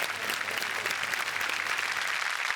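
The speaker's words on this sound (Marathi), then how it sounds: "हे संदीपसाठी पण टाळ्या वाजवा एकदा" Studio audience clapping on a Marathi comedy show, a brief burst of quick, crisp applause that stays even and moderately close for a couple of seconds.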